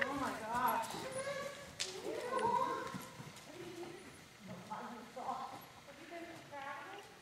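A sale horse under saddle in a riding arena, hooves clip-clopping in an irregular rhythm at moderate distance while people talk over it.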